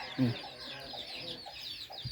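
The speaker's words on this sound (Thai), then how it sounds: "นู่นข้างบ้านเต็มเลยไก่ชน" Fighting cocks bred next door on a durian farm cluck in a few short, faint calls in the background, with a low voice murmuring nearby.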